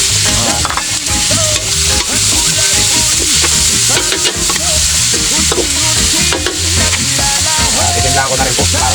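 Tofu sizzles and fries in a pan with shrimp, a steady loud crackle with stirring and scraping throughout, close up and without talk.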